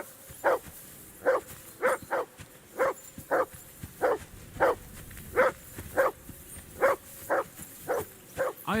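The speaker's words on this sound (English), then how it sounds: "I assume you can hear that damn dog of yours barking." A dog barks repeatedly in steady single and double barks, fairly close and loud, with no talking over it.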